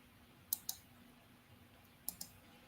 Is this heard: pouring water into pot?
no